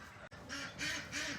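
Ducks quack loudly and excitedly on a small farm, with repeated bursts of calls following a brief gap, close and without speech.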